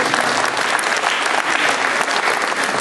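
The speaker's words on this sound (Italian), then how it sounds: "Faremo un applauso a Cesare Bertolucci." Applause for Cesare Bertolucci fills the hall at an Empoli football awards evening, with dense, continuous clapping from a sizeable crowd, loud and even with no talk over it.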